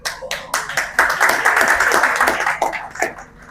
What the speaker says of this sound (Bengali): এটা তো হাততালি আপনারা দিলেন